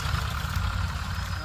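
A loaded tractor engine idles nearby on a village route, a steady low rumbling throb that holds even without other sounds.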